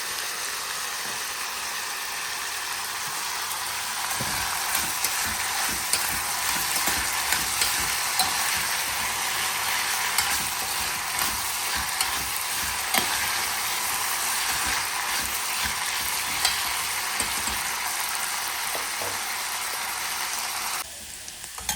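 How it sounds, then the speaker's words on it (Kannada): Green beans are stir-fried in a generous amount of oil with a tempering of spices, a steady sizzle and crackle from the pan with intermittent scraping and stirring, close and continuous, without talking. "ಹಿಂಗೆ ಬೀನ್ಸ್ ಚೆನ್ನಾಗಿ ಹುರಿಬೇಕು, ಆ ಥರ ಹಿಂಗೆ. ಅದಕ್ಕೆ ಜಾಸ್ತಿ ಎಣ್ಣೆ ಹಾಕಿತ್ತು ನಾವು."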